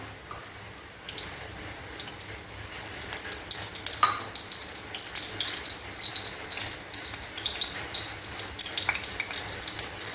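Dried red chillies, a bay leaf and mustard seeds frying in hot mustard oil in a kadai on a gas stove, a steady crackling sizzle with a few sharp pops and occasional spoon clinks.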